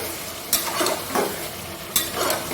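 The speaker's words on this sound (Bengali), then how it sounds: "ভালো করে একটু তেলে নাড়াচাড়া করে নেব।" Mutton pieces stirred and fried in hot oil with softened onion, tomato and ginger-garlic paste for a goat curry, giving a steady close sizzle broken by a few scraping stir strokes.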